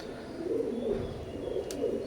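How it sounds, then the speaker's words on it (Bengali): A pair of adult Omani teddy pigeons coo softly and close by, a low rolling throb repeated in quick succession, with a faint chirp near the end. "এখন স্ক্রিনে একজোড়া ওমানি নিউ অ্যাডাল্ট কবুতর দেখতে পাচ্ছেন।"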